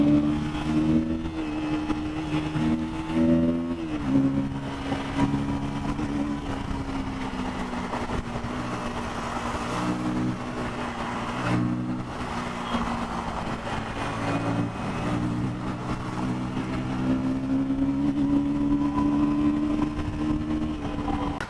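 A KTM Duke 160 motorcycle picks up speed on a city ride, its engine rising and falling through repeated rev climbs and gear changes, loud and close with steady road and wind noise underneath.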